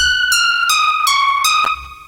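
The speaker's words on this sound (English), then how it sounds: "So without the volume envelope, it just sounds like this," Sustained reverb pluck synth notes with no volume envelope ring into each other, four tones stepping downward, bright and loud with a long reverberant tail and no gaps between them.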